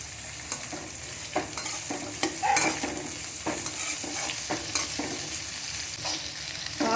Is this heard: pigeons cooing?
no